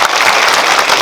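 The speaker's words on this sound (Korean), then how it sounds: "박수 한번 부탁드립니다." An audience in a cinema hall applauds at a film Q&A, dense loud clapping from many people that fills the whole brief moment without a break.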